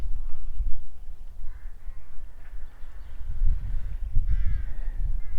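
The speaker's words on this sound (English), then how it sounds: "I think that's a crow I can hear." A crow caws a few times from trees in a riverside marsh, faint and distant over low rumbling wind or boat noise.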